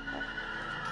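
A horse in the Minecraft video game neighs in one close, steady whinny that fills the whole second, with a faint clip-clop beneath it.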